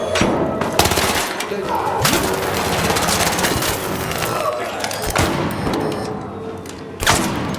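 Gunfire crackles in a PvP shooter video game, with dense, repeated bursts of shots and booms layered over constant loud action noise for several seconds.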